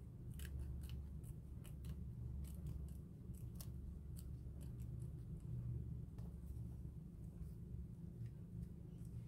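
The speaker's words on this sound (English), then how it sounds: "So I cut that piece out anyway" Scissors snip repeatedly through paper pieces for a flower collage, a rapid series of close, crisp cuts over a steady low rumble, with no talking.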